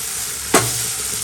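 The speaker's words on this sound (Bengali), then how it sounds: "ভালো করে আদা রসুনটাও ভাজি করে নেব।" Ginger and garlic fry in hot oil with a continuous close sizzle, broken once by a sharp clatter of a spoon stirring the pan.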